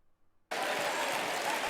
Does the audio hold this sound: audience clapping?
yes